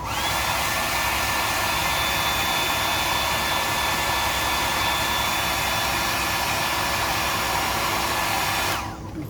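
Hair dryer blows steadily on fresh paint on a hardbody fishing lure, a loud, continuous close whoosh with a faint whine that runs unbroken for about nine seconds before cutting off.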